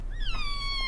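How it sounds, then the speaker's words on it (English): A tiny kitten gives one short, clear meow, rising then falling in pitch, close by and alone, with no talking over it. "We have kittens today."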